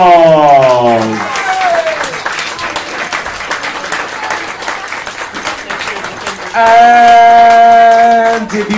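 Audience applause at the final of a limerick-writing competition, a sustained crowd clapping that runs steadily throughout, with a sung or held tone at the start and another returning toward the end over the clapping.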